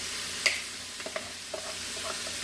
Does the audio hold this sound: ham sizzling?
yes